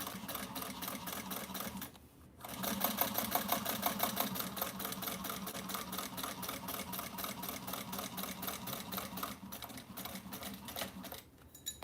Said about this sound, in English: I'm going to turn and go back and do another set of stitching right beside that